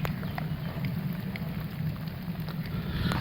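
Steady rain falls in a cartoon scene, a soft, even hiss with scattered drops, fairly faint and continuous with no voices.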